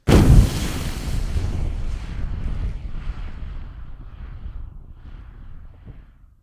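A single heavy explosion sound effect made for a video game bursts out with a sharp, loud boom, then a long rumbling tail that gradually fades away.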